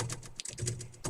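Rapid typing on a computer keyboard, a steady run of close, crisp keystrokes with a brief pause midway, heard alone without talking.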